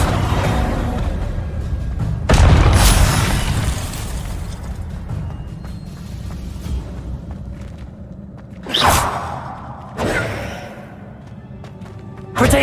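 Confringo blasting spells booming in the Hogwarts Legacy video game, a heavy burst near the start followed by two sharper explosive hits later, over a steady game soundscape.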